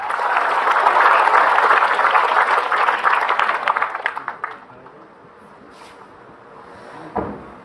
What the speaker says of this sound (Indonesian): tepuk tangan buat Ustadz Syam.